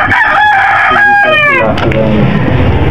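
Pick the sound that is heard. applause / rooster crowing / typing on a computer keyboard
rooster crowing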